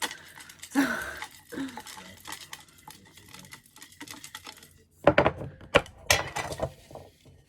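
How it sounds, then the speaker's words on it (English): Deck of tarot-style cards being shuffled by hand, soft riffling and sliding bursts with sharper snaps near the end, moderately close, with faint voice traces. "I just need to shuffle this very well"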